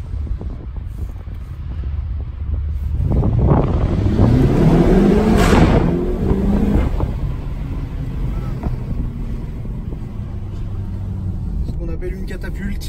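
A BMW X6 M launches hard from a standstill, its engine swelling into a loud rising roar that peaks and then settles into a steady rush of road and wind noise, with someone talking inside.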